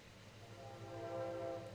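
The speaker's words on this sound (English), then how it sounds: "As a train bears down on my general vicinity." A train passes nearby during a severe windstorm, its horn tones sounding steady and moderately loud through low rumbling, with no talking.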